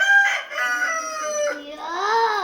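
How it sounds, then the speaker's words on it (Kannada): A village rooster crowing at daybreak, one long drawn-out cock-a-doodle-doo with a rising and falling tone, close and clear against a quiet background. "ನೋಡಿ ಕೋಳಿಗೆ ಇವಾಗ ಬೆಳಗಾಗೈತಿ"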